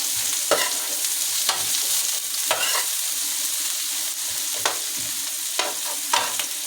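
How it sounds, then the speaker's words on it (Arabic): Onions fry in a hot pan, a continuous bright sizzle broken by regular scraping stirs from a spoon, close and fairly loud. "هنزل الاول شويه بصل، ده اركنه كده على جنب لما اعوز ياخد منه. ندي البصله كده تقليبه."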